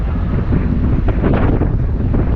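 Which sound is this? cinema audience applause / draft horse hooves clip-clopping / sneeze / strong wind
strong wind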